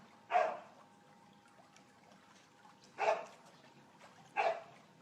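A dog beside a swimming pool gives three separate barks, moderately distant and fairly faint, with long pauses between them over a quiet watery background.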